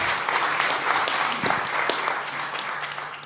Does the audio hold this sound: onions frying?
no